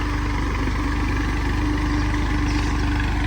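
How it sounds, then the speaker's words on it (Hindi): A tractor drags a wooden plank leveller (suhaga) across a farm field, its diesel engine thrumming in a steady, close, low rhythmic chug without any speech. "और यहाँ अब लेवल हो जाएगा सारा का सारा खेत सुहागे की मदद से"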